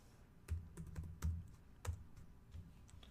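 A command being typed on a computer keyboard, with a quick run of soft, close key clicks in an uneven rhythm and brief gaps between keystrokes, quiet and without talk.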